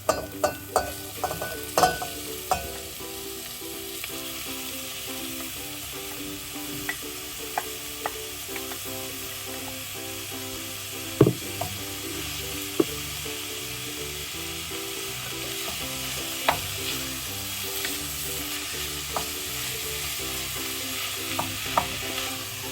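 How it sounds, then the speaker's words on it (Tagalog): Ground meat fries in a pan for a dish with tomato sauce, with a continuous sizzle under repeated scraping and stirring strokes. Sharp clicks of a utensil against the pan recur throughout. "ihuhulog na po natin yung ating karne"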